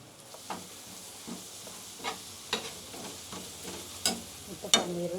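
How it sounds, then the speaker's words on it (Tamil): Tomatoes sauté in a pan for a masala, giving a soft continuous sizzle with repeated spatula scrapes and taps that grow sharper toward the end, close by and without talk. "தக்காளியை நல்லா வதங்கிட்டு"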